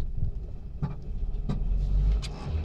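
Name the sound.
car engine revving as gas is applied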